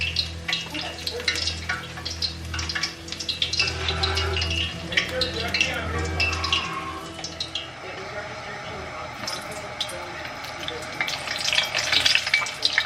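Flour-coated chicken pieces fry in oil with a busy, crackling sizzle and bursts of popping, close and fairly loud, while a voice talks over part of it.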